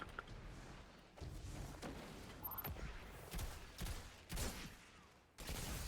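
Repeated gunshots and heavy thuds in a Destiny Trials of Osiris match, spaced through the stretch as several loud sharp blasts over a steady background rumble, with no talking.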